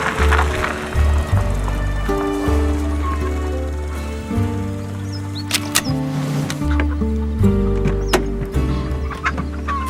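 Chickens cluck and squawk amid a busy, tonal background of music-like hum, with scattered sharp bird calls rising over it.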